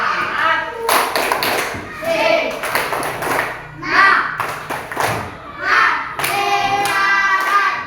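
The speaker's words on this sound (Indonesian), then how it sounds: "Tapi sebelumnya kita akan adakan tepuk semangat dulu" A class of children claps out a rhythmic Indonesian spirit cheer, tepuk semangat, in sharp patterned bursts of hand claps and thumps, mixed with children's chanting voices and pauses between phrases.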